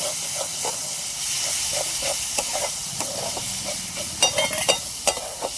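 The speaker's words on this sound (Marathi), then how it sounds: "आता टाकून घेऊ आपण तेलात तळलेले बोंबील. फोडणीत टाकल्याच्या नंतर आपण मस्त परतून घेऊ येते." Fried dried bombil is tossed into a hot spiced gravy base in oil and stirred. A loud, steady hiss runs throughout, broken by sharp spatters and utensil scrapes that cluster toward the end.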